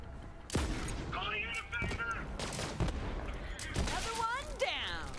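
A gun fires in a video game, sharp gunshots in short bursts mixed with mechanical clanks and electronic effects, loud and near, with a voice talking over the action.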